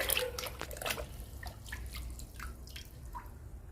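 Liquid fertilizer poured onto indoor potted plants, heard as a close series of soft drips and small splashes with faint background hiss, no voices.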